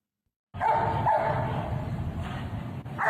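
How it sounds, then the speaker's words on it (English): A dog barks repeatedly after a moment of silence, a series of close, sharp barks and yips in quick succession. "A barking dog, man."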